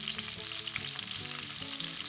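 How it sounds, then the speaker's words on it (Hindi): Bombay duck fish fries in mustard oil with a steady, close crackling sizzle, accompanied by soft background music. "हमने सारी फिश ऐड कर ली है और अब तब तक हम फ्राई करेंगे"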